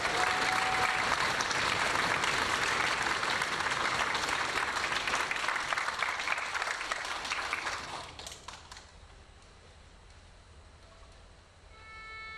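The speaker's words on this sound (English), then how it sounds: "please give a round of applause to our concertmaster" A high school orchestra concert audience claps steadily for the concertmaster, a dense and loud wash of applause that fades after about eight seconds to quiet room tone.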